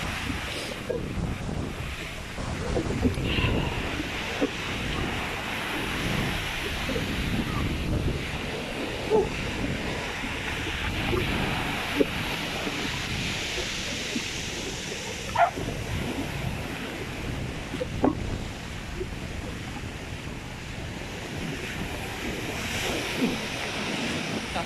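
Ocean surf rolling onto a beach, a steady broadband wash with gusts of wind buffeting the microphone and a few faint thumps and knocks throughout.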